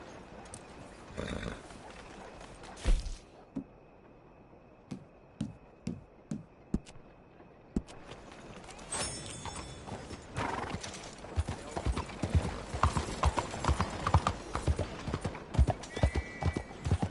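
Clip-clopping horse hooves in Red Dead Redemption 2 tap in an irregular rhythm, joined by a horse's whinny, with footsteps and rustling building into busier activity toward the end.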